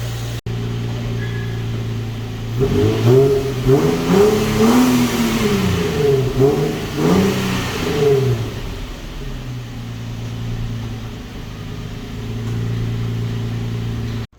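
An Infiniti G35 engine fitted with a Z1 intake idles, then revs up several times in quick rising and falling bursts before settling back to a steady idle; no one speaks.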